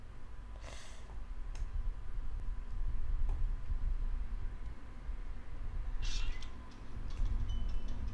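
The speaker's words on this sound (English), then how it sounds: "It's a big cat?" A cat meows a few times from a computer speaker, faint and small against a low steady hum, with short bright calls near the start and again near the end.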